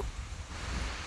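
Waterfall water flows strongly, a close, steady roaring wash with a blustery rumble, brief and uninterrupted, no talking.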